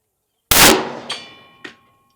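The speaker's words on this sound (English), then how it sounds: "Here's our 10mm. Firing." An M&P 10mm pistol fires a full metal jacket round at an anvil outdoors: one sharp loud bang with a ringing tail, followed by two fainter metallic hits or ricochet clinks.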